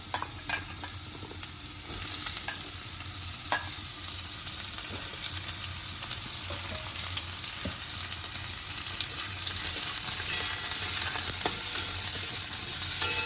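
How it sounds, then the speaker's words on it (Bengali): Mushrooms frying in a little oil in a hot wok, a steady close sizzle with intermittent scraping and stirring strokes, growing slightly louder and hissier toward the end. "এরপর মাশরুমটাকে একটু হালকা করে তেল দিয়ে ভেজে নেবো"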